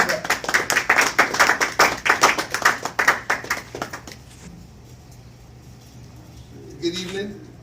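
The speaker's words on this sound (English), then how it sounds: "Let's give him a round of applause" An evening lecture audience applauding a guest speaker, a small group clapping in rapid, distinct beats for about four seconds before fading to room quiet, with a brief voice near the end.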